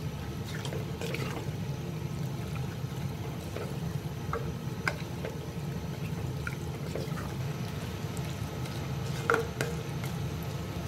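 Mutton curry with ghee, pepper and curry leaves stirred in a pot: a steady wet simmering hiss with scattered spoon scrapes and clinks against the pot, close by, with no voices.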